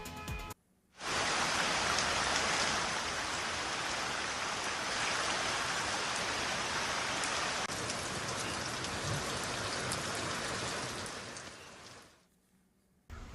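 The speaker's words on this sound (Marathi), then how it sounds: "मध्यरात्रीपासूनच मुसळधार पाऊस बरसतोय।" Heavy rain pours down in Sindhudurg district, a loud, steady, dense hiss of downpour that holds evenly for about eleven seconds before fading away, with no voices.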